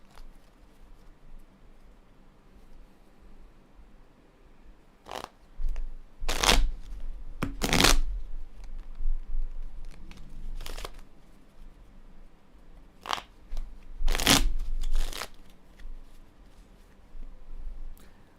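Tarot cards shuffled by hand in a few separate bursts of crisp riffling and flapping, close and fairly loud, with quiet pauses between and no talking.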